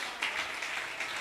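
Church congregation applauding during a Spanish-language worship service, a dense wash of many hands clapping at steady moderate loudness, with no distinct voices over it.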